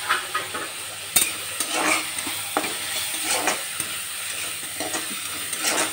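Chopped onions sizzle steadily in a pan over high flame while a spatula stirs them now and then, producing soft scrapes and clinks above a constant frying hiss.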